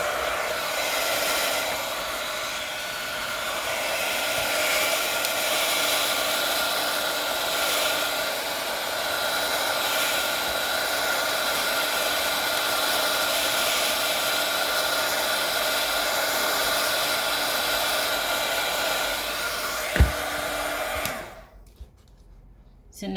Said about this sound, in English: I have my heat gun and I'm going to heat it up, shrink wrap it around the ball